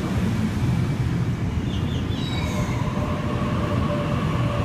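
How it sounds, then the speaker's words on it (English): A Sydney Trains Waratah electric train pulls into a platform at Hornsby station at night, a loud steady rumble of wheels and motors with faint high squeals and tones, no voices. "Here we have a Waratah arriving into Platform 3."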